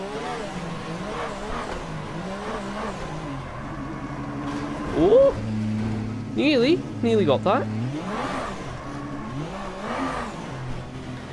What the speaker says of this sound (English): if you hear my revs go down like this, that's because I'm literally just popping the clutch